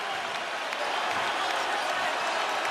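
A basketball arena crowd cheers and roars loudly and steadily throughout a close college game, with a commentator's voice audible over the din.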